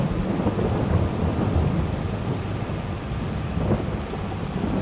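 Steady rain pours in Farming Simulator 22 while thunder rumbles low and continuous beneath it, a dense, loud storm ambience with no talking.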